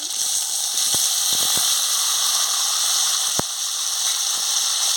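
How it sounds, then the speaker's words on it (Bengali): Potatoes and pointed gourd fry in hot oil in a wok with a loud, bright, continuous sizzle, close up, broken by a few sharp clicks and knocks of utensils. "তেল গরম হয়ে গেছে, আমি আলু আর পটলটা দিয়ে দিচ্ছি।"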